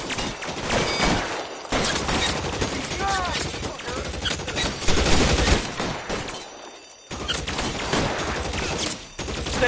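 Rapid gunfire from a PS4 military shooter crackles in dense bursts and sustained volleys, loud and close, with brief lulls around two and seven seconds before the shooting resumes.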